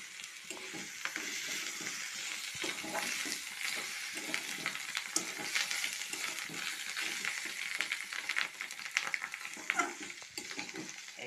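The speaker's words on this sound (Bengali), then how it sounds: "এইভাবে আমি এখন লো ফ্লেমে কিছুক্ষণ ভাজতে থাকবো, ভালো করে নাড়িয়ে নাড়িয়ে।" Boiled fish roe is fried on a low flame in a pan and stirred, for a mashed roe dish. The oil sizzles steadily and close, with frequent scraping of the spoon through the roe. No voice is heard.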